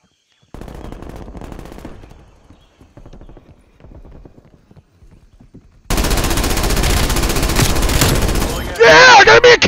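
Dense, rapid automatic gunfire in a team deathmatch of Call of Duty: Black Ops Cold War, loud and close, starting abruptly after a stretch of quieter, muffled game sounds and ending in a harsh, distorted burst.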